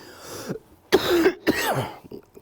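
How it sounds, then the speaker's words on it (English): A person coughs hard several times in a short, ragged fit with throat clearing, close and loud. "What a way to end the show, just having a coughing fit."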